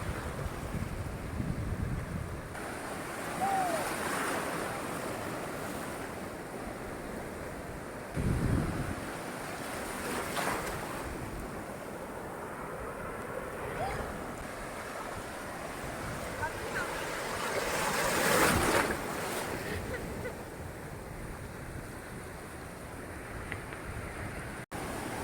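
Small, gentle sea waves wash onto a beach in Goa, a continuous soft surf roar with wind buffeting the microphone and occasional swells rising and falling.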